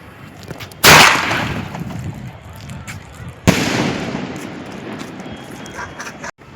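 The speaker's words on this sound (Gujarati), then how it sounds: "આ મિત્રો મારો ફોડવાનો ફટાકિયા છે." Firecrackers burst outdoors, two sharp loud bangs a few seconds apart, each followed by a crackling, hissing tail, with faint background noise between.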